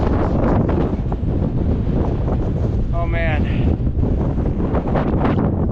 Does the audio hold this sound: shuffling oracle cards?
no